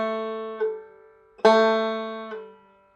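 Banjo notes ringing on the open third string, with a pull-off where the fretting hand simply lifts away, giving a few plucked tones that ring and fade close up.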